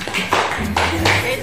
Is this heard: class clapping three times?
yes